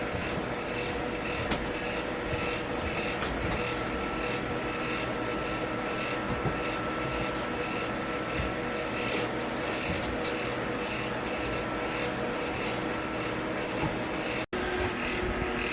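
An electric fan drones steadily in the background of a room, a constant broadband whoosh with a faint hum, running unchanged throughout.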